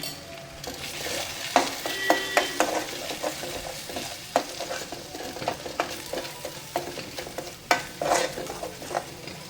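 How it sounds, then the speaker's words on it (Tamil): Steady sizzling from a hot frying pan of spices under repeated scraping strokes of a spoon stirring, close up, with no voices. "நல்லா மிக்ஸ் பண்ணிவிட்டு"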